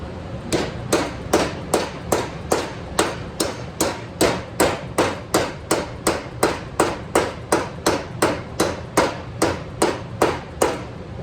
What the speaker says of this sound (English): So we're going to put that in the vise and bend it next.